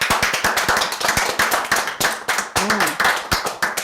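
An audience claps for the AMG Realtors company in crisp, steady, fairly even rhythm, the individual hand strikes close and distinct, with a brief vocal sound partway through.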